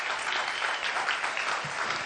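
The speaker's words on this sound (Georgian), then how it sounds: "აპლოდისმენტები ვახოს" A studio audience at a Georgian televised talent show applauds in a dense, steady wash of clapping that holds evenly throughout, with no voices above it.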